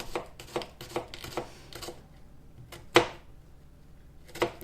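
A knife slices shallots for a salad on a cutting board: a run of short, crisp cuts in an uneven rhythm with brief pauses between them, close and clear with no talking over them.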